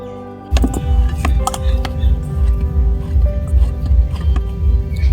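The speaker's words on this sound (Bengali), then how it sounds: "এবার অল্প অল্প জল দিয়ে মেখে নেবো" Hands knead flour dough with small additions of water for paratha, making close, rhythmic wet squishing and pressing sounds over a faint steady hum.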